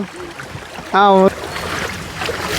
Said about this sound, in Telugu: ఇప్పుడు మనం పడవెక్కేసాం